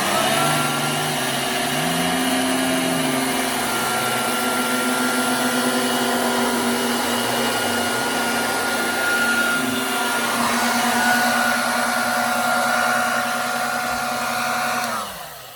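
Dirt Devil handheld vacuum sucking up sand, a loud, steady close whine with a constant motor drone that shifts in pitch now and then as it runs for the whole stretch before cutting off at the end.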